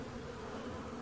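Honey bees buzz in a steady, dense drone inside an open hive on a warm day, close and even, with no other sounds.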